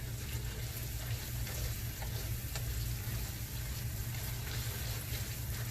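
Tomato paste fries steadily in a pot for jollof rice, a soft continuous sizzle with faint scraping as it is stirred, fairly quiet and with no talking.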